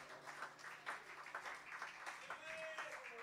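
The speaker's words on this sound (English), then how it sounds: "How about a big round of applause for Mr. Bill Cook on the bass and Mr. Walter" A live audience at a small venue gig by a country band applauds the bass player and drummer, a steady wash of clapping at a distance with talk over it.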